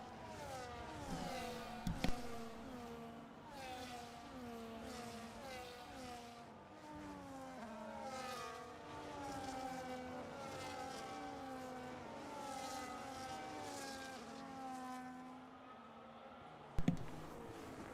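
Formula 1 race cars scream past in the F1 25 game at the Netherlands round, engine notes rising and falling as several cars rev through gear changes, with a faint commentator's voice.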